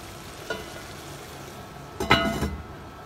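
Shrimp and vegetables for pinakbet cook in a covered pan, a low steady sizzle broken by a short tap and a louder burst of clatter and hiss near the end; no voices.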